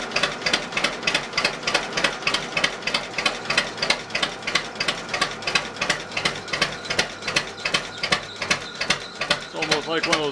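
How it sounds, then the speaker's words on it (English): Old John Deere tractor engine with a V-belt running at a slow, steady idle, giving a regular mechanical chugging and clattering rhythm close by throughout. "that's my favorite sounding tractor, the John Deere, the old John Deere"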